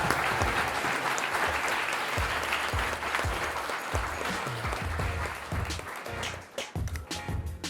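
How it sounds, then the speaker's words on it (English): A crowd at a wellness panel event applauds, dense continuous clapping from many hands close and loud, thinning slightly toward the end. "Please give these men another round of applause."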